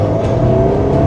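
An Alpine A110S sports car engine pulls hard at full throttle, a loud, close, steady drone with a rising tone and no talk over it.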